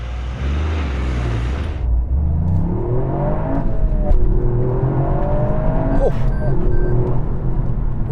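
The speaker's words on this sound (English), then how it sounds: "So I'm going to launch it." A Toyota GR Yaris launched hard from standstill with stability control off for a 0 to 60 run: a burst of noise, then a loud, close engine climbing in pitch through several rising gear pulls with brief shift dips, no speech.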